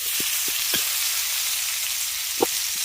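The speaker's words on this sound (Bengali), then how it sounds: "এদিকে আমাদের উচ্ছেগুলোকেও ভেজে নেওয়া হয়ে গেছে" Bitter gourd fries in a pan with a steady, close hiss of sizzling oil, broken by a few soft pops and light taps.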